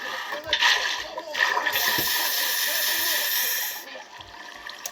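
In a Minecraft hardcore game, water poured from a bucket makes a steady rushing hiss that swells for about two seconds over fainter background noise, then drops away.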